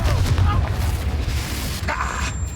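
The Confringo fire spell goes off in Hogwarts Legacy as a loud, rumbling boom that rolls on for a couple of seconds, mixed with a voice calling out.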